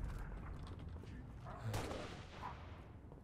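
Sniper rifle fire in Halo: Reach: a single sharp crack rings out midway through a quiet, muffled stretch of game noise, with other faint bursts of gunfire in the background.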